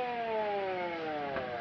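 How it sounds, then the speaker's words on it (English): A film ambulance siren in a 1944 film noir wails with steady, gliding tones under a light background hiss. Nobody speaks over it. "There's an ambulance coming, Doctor."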